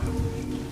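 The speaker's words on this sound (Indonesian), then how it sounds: "Malam itu, hujan turun dengan deras." Heavy rain pours down steadily on a surface at night, a dense, continuous close wash of patter with no voices over it.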